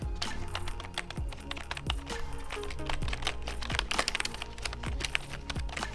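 Rapid typing on a MAXXTER wireless keyboard, dense soft clicks and taps in a steady flurry, close up with no voices.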